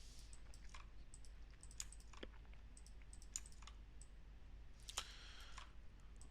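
Computer mouse clicks while placing points with Maya's Quad Draw tool: a sparse, irregular series of soft, close clicks over a quiet, hissy background, with no voices.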